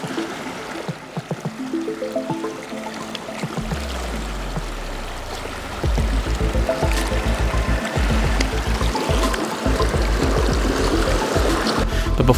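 Creek water flowing and trickling around a submerged untreated compressed down quilt, with gurgling, splashing and a few low thumps, rising to a louder steady burble partway through; no speech.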